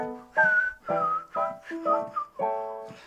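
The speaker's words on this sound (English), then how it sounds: "It starts off with a whistle" Someone whistles a short melody alone, clear sustained notes in several bright phrases with brief pauses between them.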